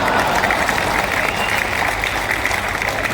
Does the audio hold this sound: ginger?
no